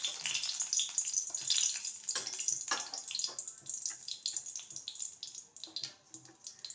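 A paste of ginger, poppy seed and chickpeas spatters and crackles in a pan over low heat, with uneven bursts of wet frying and stirring.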